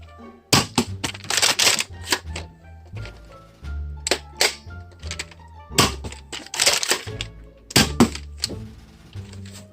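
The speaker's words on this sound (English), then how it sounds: "you're just gonna have to dry fire and then do it again" A Dart Zone Apex foam blaster is dry fired again and again, each shot a sharp mechanical clack with a thunk, in a quick irregular series of close, loud bursts with no voices.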